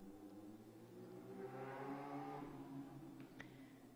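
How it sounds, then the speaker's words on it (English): A motorcycle rises and fades as it passes along a street, its engine hum swelling in the middle before trailing off. "those were the sweet sounds of a motorcycle going by the street"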